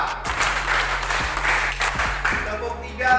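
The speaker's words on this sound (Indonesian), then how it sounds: "Tepuk 2 dan 3." A group of students claps hands in a classroom, a broad burst of applause-like patting throughout, with talk mixed in.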